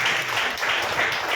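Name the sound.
audience clapping for Jesus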